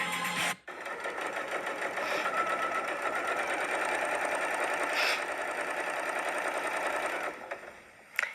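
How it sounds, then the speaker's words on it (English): A home sewing machine stitches a bias-cut appliqué stem onto a quilt background piece with a quarter-inch seam, running steadily and loudly for about seven seconds with a brief stop near the start and no talk. "I'm going to take this stem and the background piece here over to the machine and go ahead and sew that together just with a 1/4 inch seam allowance"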